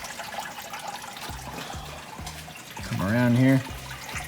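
Coolant drains out of a 1976 Mercury Comet radiator with a soft, steady trickle and splash close by. People talk quietly over it, and a louder burst of voice rises near the end.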